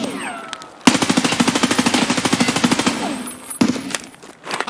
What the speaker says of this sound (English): I was shooting the dead body of the guy I killed earlier!